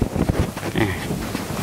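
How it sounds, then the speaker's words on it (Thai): A strong wind roars across an open garden plot just after rain, gusting steadily and buffeting the microphone throughout, loud and close, with no voices. "ดูโอ้ลมกำลังแรงครับ"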